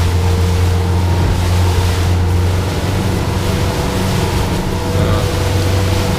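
Loud, steady engine drone of a 2016 Mako 204CC motorboat running through waves, with rushing water and wind noise, continuous throughout without pause.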